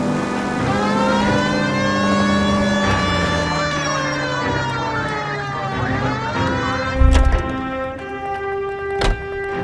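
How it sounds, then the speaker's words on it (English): A video game police car siren wails loudly with rising and falling tones, blended with a second siren and car noise, ending with a couple of thumps. "Got something against the siren?"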